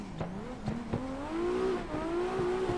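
In a racing video game, a car drifts through a corner at the Tomata track with the handbrake pulled in first gear, its engine note rising in pitch and revving steadily over short rhythmic tire chirps.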